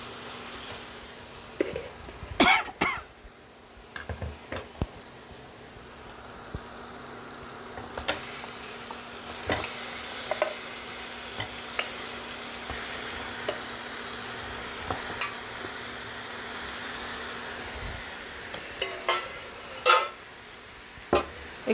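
Washed chicken pieces fry in cooked spice masala for Dorbari chicken, giving a steady soft sizzle broken by scattered clinks and scrapes of a spoon stirring in the pan.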